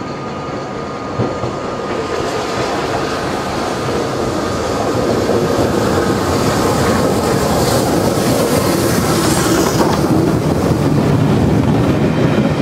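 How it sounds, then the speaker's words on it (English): Bulleid Pacific steam locomotive Clan Line drawing its train into platform 12 at Crewe, a loud, sustained rolling rumble of wheels and carriages that builds slightly over time. "Clanline rolls into platform 12 at Crewe"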